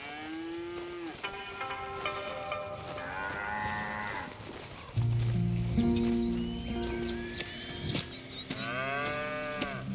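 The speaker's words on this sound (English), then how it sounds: "Here's the cows." Several cows moo in turn in the video game Red Dead Redemption 2, long drawn-out lowing calls close by, with rustling and farm ambience around them; no talking.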